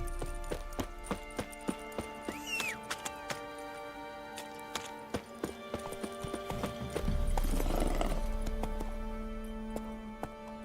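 Roach the horse trots in The Witcher video game, with steady, crisp hoof clip-clops close by and a brief whinny, over a low, constant background; no one speaks.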